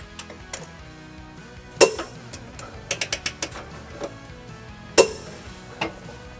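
Ratchet wrench with an 18mm socket working low bolts on a 2022 Chevrolet Trax during a trailer hitch install, giving scattered sharp metallic clicks and a few louder clacks, close and alone.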